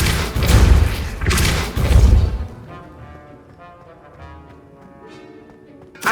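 Depulso spell impacts in Hogwarts Legacy: two heavy booming thuds in quick succession, followed by quieter ringing magical debris and a final thump at the end.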